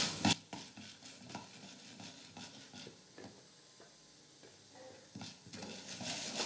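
Urad dal roasting in hot oil in a pan while coconut thogayal is made, giving a faint crackle under repeated stirring scrapes and a few sharper clinks of a spoon against the pan.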